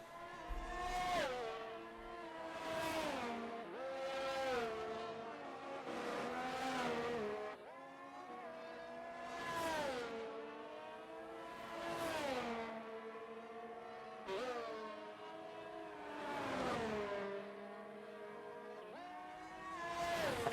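Racing cars on track in a video game at the Saudi Arabia GP: a repeating sequence of engine revs climbing and dropping in pitch as cars pass one after another, moderately loud with clear gaps between passes.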